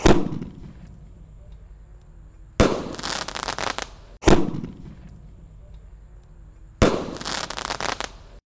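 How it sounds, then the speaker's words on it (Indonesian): Basoka Roman candle fireworks launching at dusk during Ramadan, loud near bangs each followed by a crackling hissing burst, in a repeating rhythm of four sharp blasts with trailing fizz between. "Kita akan menyalakan Basoka Roman candle guys, spesial malam takbiran."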